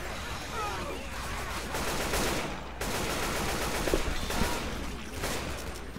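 Sustained automatic turret gunfire in the video game Left 4 Dead 2, a dense, continuous rattle of rapid shots with short pauses, loud and close, with faint voices occasionally beneath.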